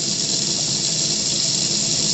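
Tap water runs steadily after the water main is reopened, a loud, continuous hiss and gush with no pauses, close by and alone.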